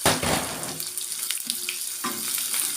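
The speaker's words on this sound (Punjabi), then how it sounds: "ਤੇ ਹੁਣ ਆਪਾਂ ਪਾ ਦਾਂਗੇ ਪਿਆਜ਼" Onion dropped into a pan of browned garlic for a pumpkin curry bursts into a loud sizzle that quickly settles, broken by a few stirring scrapes.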